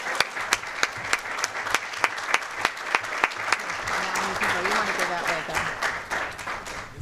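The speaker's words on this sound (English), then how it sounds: "So let's applaud them one more time." An audience applauds two legislators at a legislative wrap-up event: a few loud, evenly spaced claps lead into a fuller round of crowd clapping, with voices murmuring and talking underneath toward the end.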